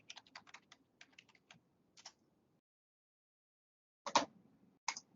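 A computer keyboard being typed on in short bursts of close, crisp clicks, a pause of about two seconds, then a few louder final keystrokes.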